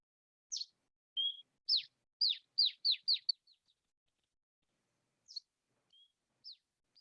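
A bird from the Peninsula population sings a sequence of clean, high, downslurred notes spaced at even intervals, followed by a pause and a few more scattered notes, crisp and solitary.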